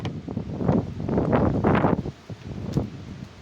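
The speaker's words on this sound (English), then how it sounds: "A little windy today." Gusting wind buffets the microphone outdoors beside a lawn mower, rising and falling in broad, rumbling swells over a few seconds with no voices.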